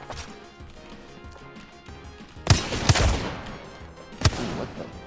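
Gunshots in a one-on-one video game fight, a few heavy booming shots standing out sharply over a steady background of game noise, with no talk.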